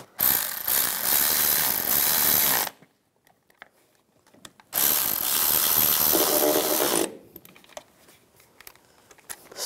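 A hand ratchet snugs down bolts on the variable valve timing solenoid of a 2004-2009 Toyota Prius, in two loud, close, rapid bursts of clicking separated by a pause, then quieter handling noises.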